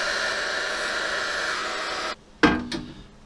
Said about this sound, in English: one of these Kraft hot air gun dryer things. Absolutely fantastic for doing heat shrink